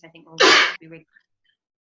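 One loud, close sneeze bursts out suddenly during a workshop discussion, with a person speaking quietly just before and after it.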